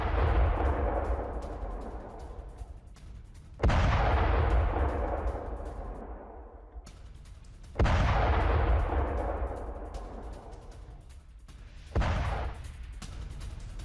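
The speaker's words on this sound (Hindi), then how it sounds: "आप धमाकों की आवाज सुनिए।" Four heavy explosions from American strikes on Iran land several seconds apart. Each deep boom rolls into a long, fading rumble, with nothing else heard.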